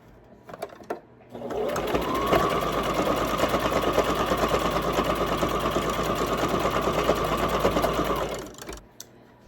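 A sewing machine stitches the lining of a zipper bag in one steady, loud, close run of rapid needle rattle lasting several seconds, with brief handling noises before and after.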